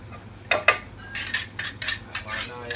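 A spoon stirring ayam goreng ketumbar (coriander fried chicken) ingredients in a cooking pan, giving a run of sharp metallic scrapes and clinks against the pan at an irregular rhythm, close and fairly loud with no talk.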